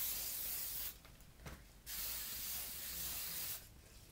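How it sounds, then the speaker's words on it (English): Hairspray from an aerosol can sprays onto hair in three bursts: a long hiss, a pause, a second long hiss, then a final short spray. "put as much hairspray as you feel your hair needs to keep curl"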